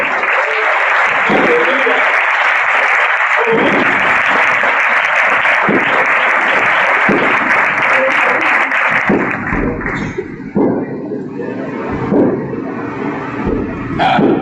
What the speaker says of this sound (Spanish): Les voy a dar un aplauso al Rey bendito.